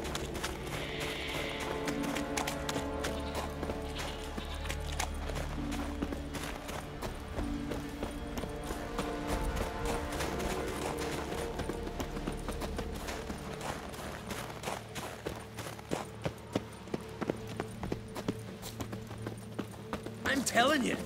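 Horse hooves gallop in The Witcher 3 game, a rhythmic clip-clop running steadily under music and game voices, growing sharper and more distinct toward the end.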